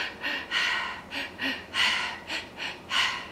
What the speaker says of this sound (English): I'm just teaching you how to breathe